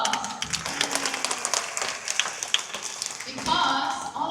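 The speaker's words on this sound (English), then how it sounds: "But everyone, give yourselves a big round of applause." Audience at the Splash Safari show at Singapore Zoo claps in a burst of applause, with a voice speaking over the clapping.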